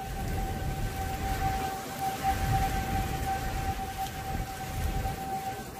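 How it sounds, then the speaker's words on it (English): Tornado sirens wail steadily in the distance during a dangerous derecho storm, their sustained tone sitting over the constant patter and hiss of rain, with no voices. "our tornado sirens are going off"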